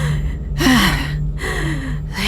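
A narrator's voice imitates a character panting: repeated, heavy, breathy gasps in a steady rhythm, close and loud.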